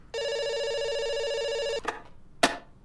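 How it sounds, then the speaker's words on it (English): A telephone rings in The Stanley Parable video game: one long electronic ring lasting most of the clip, then cut off, followed by two short clicks or knocks, with no talking. "It's ringing."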